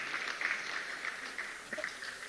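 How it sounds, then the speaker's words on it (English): An audience applauds the D'Tigress, Nigeria's women's basketball team, at a government reception: a faint, distant, steady patter of clapping continuing evenly throughout. "I think they deserve a big round of applause"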